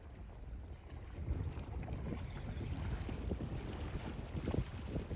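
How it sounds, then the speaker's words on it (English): Wind blows hard across a fishing boat on the water, a steady low rushing roar buffeting the microphone throughout, with faint splashes and knocks underneath. "The wind did pick up right now."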